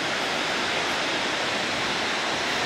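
Waterfall pouring steadily beside a volcano, a loud, continuous broadband roar of falling water with no break and no voices.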